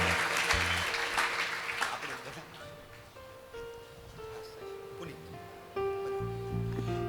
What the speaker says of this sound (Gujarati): એકવાર તાળીઓના ગડગડાટથી તમામ કાર્યકર્તાઓને વધાવીએ